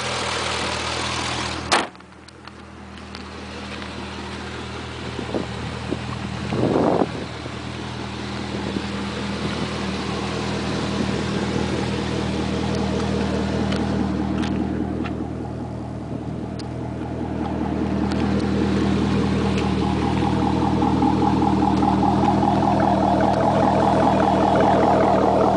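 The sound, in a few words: 2007 Chevy Corvette Convertible with custom exhaust running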